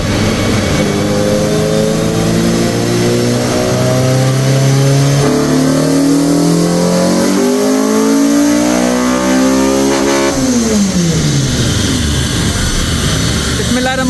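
A modified 400HP+ car engine revs hard on a final run, climbing repeatedly through rising and falling pitch sweeps, loud and close, with brief shifts between pulls.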